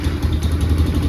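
Four-wheeler ATV engine running with its exhaust refitted, choke needed and carburetor dirty: a steady, close, clattering idle with a low throbbing pulse.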